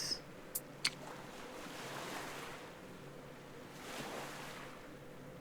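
Ocean waves wash around a character floating in open sea in the Oceaneers game, a soft continuous surf swell rising and falling with a few faint clicks near the start.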